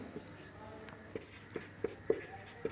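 A pen writes in a notebook with a scattering of soft, close scratches and taps, growing a bit sharper toward the end, over a quiet room.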